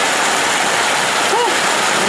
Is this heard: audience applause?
no